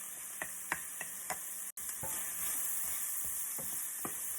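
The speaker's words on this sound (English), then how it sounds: "You'll want to carefully mix this together." A cornstarch mixture stirred by hand, a series of soft scraping taps spaced about every half second over a steady background hiss.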